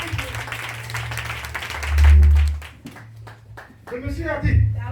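A church congregation applauds and cheers for Jesus during a French-language sermon: dense clapping mixed with crowd voices, swelling and then giving way to sharper scattered claps near the end.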